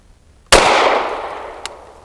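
A single Canik METE MC9L pistol shot with 154-grain Ruag ammunition, a sharp, loud close report with a long reverberant decay, followed by a faint small metallic clink.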